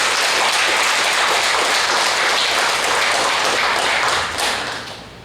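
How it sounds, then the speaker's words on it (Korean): A church congregation at a Korean Sunday worship service claps for the choir after its hymn, a loud, dense burst of applause that holds steady and then tapers off near the end. "우리 할렐루야 성가대에서 박수로 우리 동행 하겠습니다."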